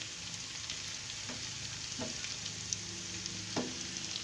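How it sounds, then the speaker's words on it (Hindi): Dalia with browning onions is stirred in a pan with a spatula, a soft steady frying sizzle with a few faint scraping clicks, quiet and close with no talking. "इसको मैं मिक्स कर दूँ चमचे से, स्पैचुलर से।"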